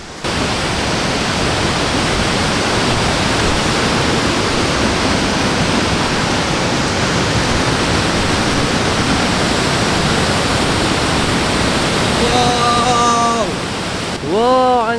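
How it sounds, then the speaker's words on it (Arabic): Dangar Falls, a large and wide waterfall, sends up a steady, loud, full-bodied roar of falling water that holds constant throughout, with a voice briefly speaking near the end. "عن جد شلال كتير كبير كتير عريض"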